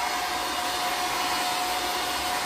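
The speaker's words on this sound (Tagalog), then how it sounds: "Ayan, 10 years old na ito yung ating hair dryer." A ten-year-old hair dryer runs steadily at close range, a constant loud whooshing blow with a faint motor whine and no pauses, heard alone without talking.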